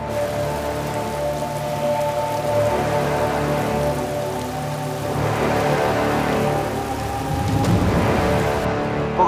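Heavy rainstorm pounding down on surfaces, a dense continuous patter of raindrops that stays loud and steady throughout, with no voices.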